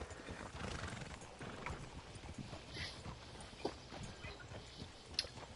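Horse hooves clip-clop on the ground in the video game Red Dead Online, a soft, uneven walking rhythm with a faint whinny, quiet and with no talk.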